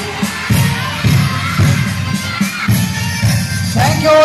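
Schoolchildren gathered for a Republic Day function clap in rhythmic bursts and cheer loudly, a rowdy crowd roar with repeated surges of hand claps and shouting.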